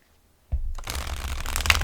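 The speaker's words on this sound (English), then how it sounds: "let me shuffle these really quick." A deck of tarot cards being shuffled up close, a steady riffling flutter that starts abruptly and runs continuously to the end, with no talking.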